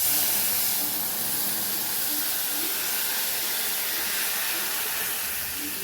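Water hits hot oil with nigella seeds in a pan, giving a loud, steady, close hissing sizzle that holds evenly for about six seconds with no talking.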